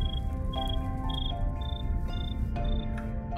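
A cricket chirps in Minecraft with short, regular high-pitched trills repeating about every half second. The chirping sits over a steady low background hum.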